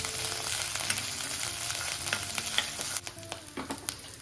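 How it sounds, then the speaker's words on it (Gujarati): Ginger, chili and garlic paste sautéing in a pan while preparing ragda, a steady hot sizzle with stirring scrapes and small pops throughout, close and loud with no talking. "અડધી મિનિટ જેવું સાંતળી લઈશું, જેથી આપણી જે આદુ મરચા લસણની પેસ્ટ છે તે કાચી ન રહી જાય."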